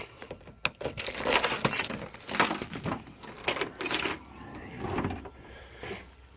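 Keys jangle and clink up close around a 1980 Ford Mustang Fox Body, coming in several bright bursts of metallic rattling with short pauses and handling noise between them.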